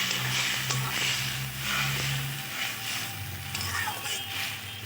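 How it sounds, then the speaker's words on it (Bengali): Spicy rinse water poured into a pan of cooking lotiyas with mustard, then stirred, producing a continuous hissing sizzle with soft scraping and clatter, steady and close throughout. "আমি ধুয়ে ওই মশলা জলটাও এর মধ্যে দিয়ে দিচ্ছি।"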